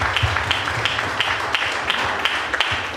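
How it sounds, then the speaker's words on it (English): Audience applause at a Toastmasters club's 100th meeting, a dense, even patter of many hands clapping at moderate distance with soft irregular accents throughout. "A big round of applause to all of them"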